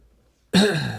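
A single harsh throat clearing bursts in after a half-second of near silence, loud and close, rasping on for about half a second before trailing off.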